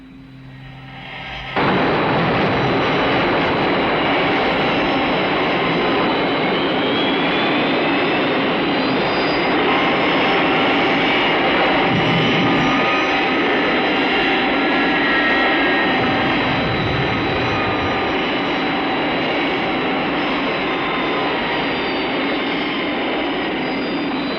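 A cartoon aircraft from the Thunderbirds series comes in to land, a loud sustained engine roar with a steady rushing drone that starts abruptly and holds near and constant.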